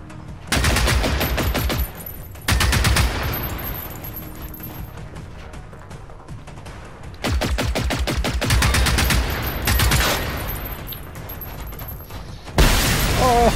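Suppressed gunfire in Generation Zero comes as long, rapid automatic bursts of clicking, snapping shots, loud and close, separated by quieter pauses with lingering impacts and no talking.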